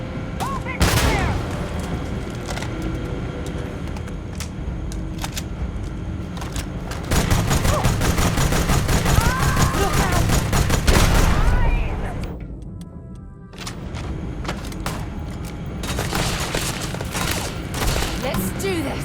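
Gunfire rattles through a firefight in the video game Starfield, with sustained volleys and booms that are loud and close, running over most of the stretch and dipping briefly near the end, while voices shout in bursts.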